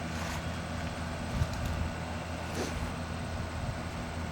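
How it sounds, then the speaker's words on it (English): The 8-horsepower engine of a 1963 Bolens 800 garden tractor runs steadily at about half throttle, a continuous close rumbling drone with no talking over it. "And the engine sounds tight."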